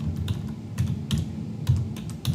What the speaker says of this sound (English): let's type pabbly.com in your browser.